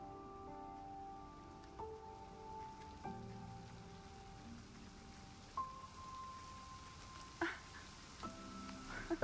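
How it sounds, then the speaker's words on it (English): Rain falls steadily in the video game Jusant, a soft, even patter at low level under faint tonal game music with a few light drips and taps. "Yep, and it's raining now."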